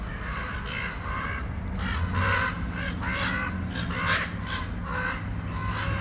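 Birds calling outdoors in a series of loud, harsh honking cries repeated over a steady background rumble.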